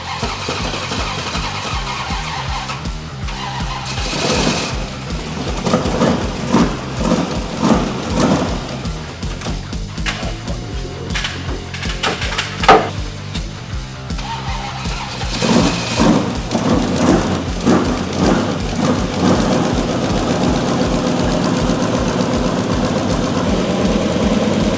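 Supercharged 1969 Chevelle engine running, a heavy rumbling idle broken by repeated revs that surge and fall back, loud and close with a rough, pulsing texture throughout.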